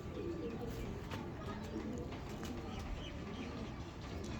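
Old-breed pigeons coo steadily in a busy loft in Faisalabad, with soft chirps and occasional wing flutters over a constant low background murmur.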